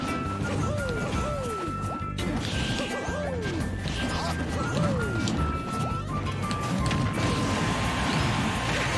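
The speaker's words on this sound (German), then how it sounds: "Es explodieren irgendwelche Dinge mal wieder." Super Smash Bros. Ultimate explosions and heavy crashes burst repeatedly over busy music and effects, loud and chaotic throughout.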